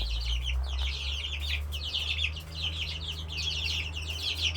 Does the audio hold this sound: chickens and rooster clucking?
yes